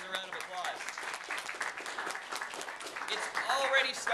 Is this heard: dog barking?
no